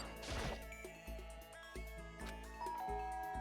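A doorbell chime rings in the game Danganronpa: Trigger Happy Havoc, opening with a brief crash-like hit and then clear, ringing tonal notes that repeat and linger over background music.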